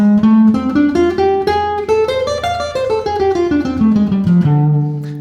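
A jazz guitar plays the D blues scale as a flowing run of single picked notes that climbs and then descends to settle on a sustained low tone. The sound is close and clean, with no voices.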